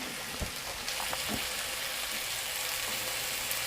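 Sausages fry in a pan for a Tuscan bean soup, giving a steady close hiss and crackle with a few soft knocks of a spoon against the pan and no talking.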